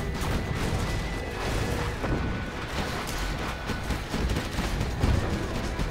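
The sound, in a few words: particle cannon firing, strategy video game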